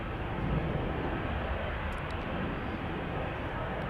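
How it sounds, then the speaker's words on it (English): A Boeing 737 jet takes off from Amsterdam Schiphol Airport, a steady, loud broadband engine roar that holds without letup. "A 737 just took to the skies"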